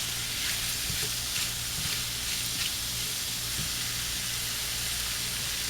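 Chicken and rice fry in oil in a pan over heat turned down to low, giving a steady, even sizzle throughout with a few soft stirring knocks underneath.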